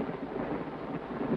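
Steady rain with low thunder rumbling outside an old house on a stormy night, a dense, continuous wash of sound with no voices.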